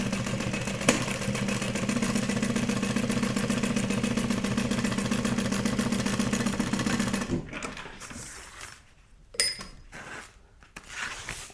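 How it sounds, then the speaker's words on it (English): A sewing machine top-stitches close to the edge of a Stephan Sport Duffel bag panel, running in one steady, even whir for about seven seconds before stopping, followed by quieter handling sounds. "I do prefer to sew in the same direction, so top to bottom on both sides."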